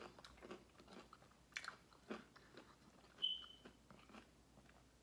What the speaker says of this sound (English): I like chewing on ice.